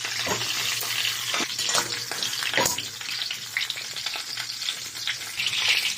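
Pork leg (pata) frying in a pan: a constant loud sizzle and crackle of hot oil with scattered spatters and pops throughout.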